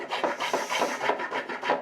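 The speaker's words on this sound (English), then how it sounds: "that's going to be just a lot of block plane work" Hand tool rasping against walnut while chamfering the feet of an entry bench with a block plane, a steady run of short scraping strokes repeating about every quarter second, close and fairly loud with no talk.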